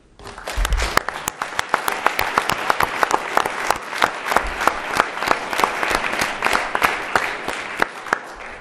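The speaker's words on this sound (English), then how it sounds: "Please join me in a round of applause for Vishnu." Applause at a town board meeting honouring a departing member, building from a quiet start into a sparse, distinct patter of individual claps from a modest room, steady and fairly near.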